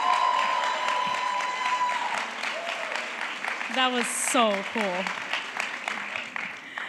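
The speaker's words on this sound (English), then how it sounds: "Can we please give Ravina one more hand of applause?" Audience applause follows a Diwali 2022 performance, a steady wash of clapping that runs the whole stretch while people speak over it near the microphone.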